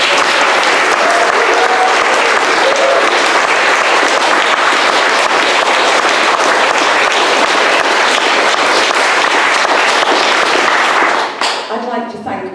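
An afternoon poetry festival audience claps for a poet in loud, dense, continuous applause that holds steady, then cuts off sharply near the end.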